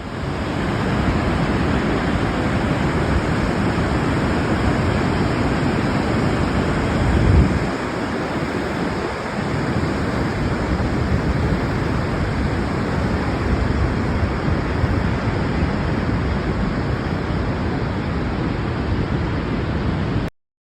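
Steady, loud roar of a waterfall plunging through a gorge in Norway, heard from a viewing platform; broadband rushing water continues without a break and ends abruptly.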